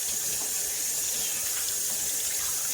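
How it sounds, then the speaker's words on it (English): Tap water runs steadily into a kitchen sink during handwashing, a soft continuous splashing hiss at moderate distance with no talking. "let me wash my hands, folks"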